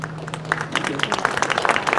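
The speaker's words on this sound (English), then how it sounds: "Please hold your applause until the end." Audience applause at a mayoral candidates' forum breaks out and builds into steady clapping from many hands, with a faint hum beneath at first.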